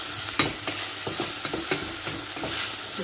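Food stirred and mashed while frying in hot oil, with a loud continuous sizzle and rhythmic scraping strokes of the utensil, close up, no talking.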